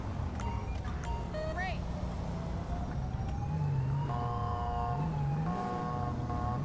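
A wailing police siren rises and falls under steady traffic noise in LSPDFR, with voices talking nearby over the rumble of the street.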